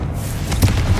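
A Confringo fire spell blasts in Hogwarts Legacy, a loud, close, low booming burst that swells briefly with rumbling impact, no voices.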